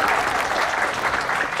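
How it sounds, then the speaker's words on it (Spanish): An audience at a staged show applauds continuously, a dense, even wash of clapping that fills the room without pause. "fuerte los aplausos"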